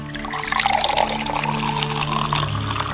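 Drinking water pours steadily into a vessel, a continuous close liquid splash and trickle lasting the whole few seconds, with a low steady hum beneath it.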